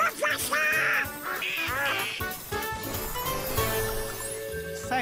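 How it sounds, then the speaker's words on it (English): Cartoon ducks quacking in a Mickey Mouse Clubhouse episode, a rapid run of bright animated quacks layered over background music, loud and close. "Ah, ducks."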